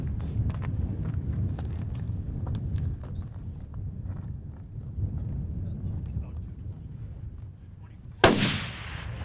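A rifle shot fired at a long-range steel target on an outdoor range lands as one sharp, loud crack near the end, with a short decaying tail. Before it there is steady wind or background noise and low voices chatting.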